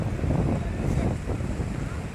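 Strong sea waves and gusting wind at a river mouth on the Kerala coast during fishing, a dense, continuous roar of surf and buffeting wind noise, fairly loud and close.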